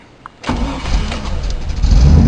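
The ignition of a car is switched on and the engine cranks and catches after a short pause, settling into a close, loud idle with no talking.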